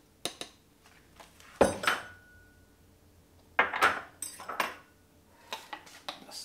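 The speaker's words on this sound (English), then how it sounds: "Stir it up." A spoon stirs waffle batter with blueberries and raisins in a bowl, giving several close, scattered clinks and scrapes against the bowl with quiet pauses between them.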